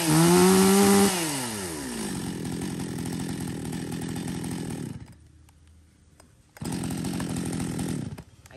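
A used Japanese domestic-market chainsaw running on a 325 chain, loud and close, revving hard at first, then idling steadily, dropping near silent briefly, then surging back to a strong idle.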